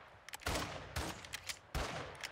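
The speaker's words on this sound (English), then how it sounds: "I might as well just shoot my gun now. And yeah, we're shooting." Gunfire in the video game Modern Warfare 2 comes in several dense, rapid bursts with short gaps between them. The firing sounds close and harsh, and no one talks over it.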